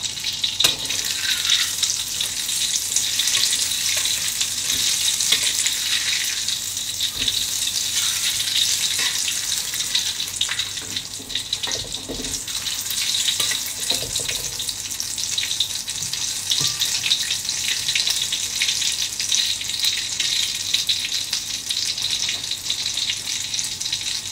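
Smoked beef mayonnaise risoles fry in hot oil, giving a steady, dense sizzle that stays loud and even throughout, close up with no talking.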